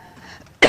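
The Chancellor gives one abrupt, loud cough during a speech, following a brief quiet stretch.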